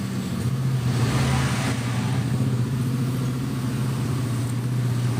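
Engine of a 2018 Toyota Transmover, a former Blue Bird fleet car, running steadily with a strong low hum and slight rise in revs near the start, close and continuous with no talk.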